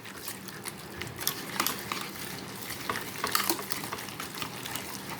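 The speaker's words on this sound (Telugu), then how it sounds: "ఉప్పు కారం సరిపోయేలా వేసుకొని బాగా మిక్స్ చేసుకోవాలన్నమాట" Beaten egg being stirred with salt and chili powder for an omelette, a quiet wet clicking and scraping of a utensil against the bowl, steady and close with no talk.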